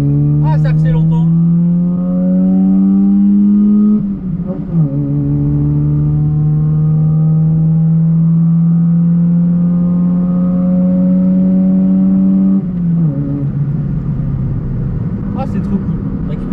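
A tuned car drives along with a loud, steady engine drone that rises in pitch, drops sharply twice as the gears shift, and keeps humming close by throughout.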